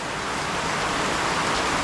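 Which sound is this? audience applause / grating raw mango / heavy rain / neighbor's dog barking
heavy rain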